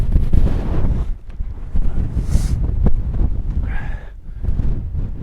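Strong wind buffets the microphone in heavy, rumbling gusts on a hilltop summit in the Crianlarich Hills, roaring continuously with brief lulls.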